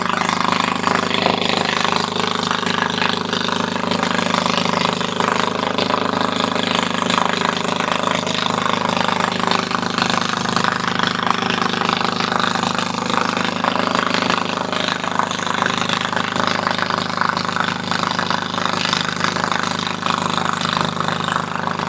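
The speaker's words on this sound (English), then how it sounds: "390cc engine. That's a Honda." A Honda 390cc generator engine runs steadily and loudly at close range, a constant droning hum with a rough mechanical buzz and no pauses.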